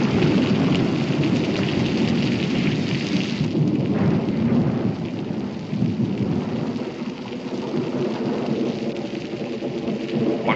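A thunderstorm on the Daniel Boone frontier, with steady heavy rain hissing throughout and low rolling thunder rumbling beneath it, loud and continuous with no voices.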